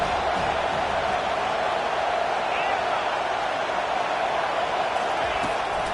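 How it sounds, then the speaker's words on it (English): A football stadium crowd at a Miami vs South Carolina game roars steadily on a third-down defensive stand, a dense, loud wall of cheering with a commentator talking over it. "Decibels rising as the crowd gets behind this defense on third down."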